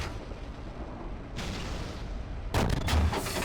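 Tank cannon fire in the Steel Beasts armored-combat simulator: a low rumbling battlefield bed, then a heavy boom and a burst of sharp, loud reports near the end, with no voices.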